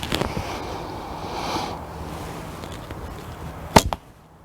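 A sharp, solid thwack of an arrow from a laminated Asiatic bow with a 30-inch draw striking a target rings out near the end, following a soft whoosh and faint wind.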